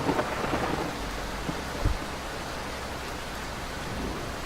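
Deep, distant video game thunder rumbles under steady rainfall, with a soft low boom near the middle.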